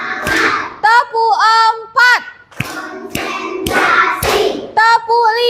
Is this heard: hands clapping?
yes